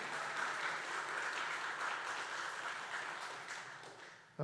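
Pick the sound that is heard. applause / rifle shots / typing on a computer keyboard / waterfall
applause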